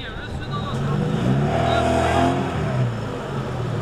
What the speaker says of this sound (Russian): Для сравнения едет Нива.